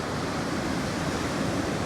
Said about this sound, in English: in the last 3 minutes, 2 waves have come up